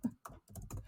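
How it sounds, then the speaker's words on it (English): Rapid, furious typing on a computer keyboard, four dense bursts of clatter in under a second, close and fairly quiet with short gaps between them. "It's furious typing."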